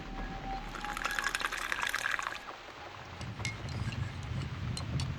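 Water pours in a steady liquid stream while making coffee in The Cat Lady horror game, close and moderately loud, then shifts to lower gurgling splashes and drips near the end, with no talk.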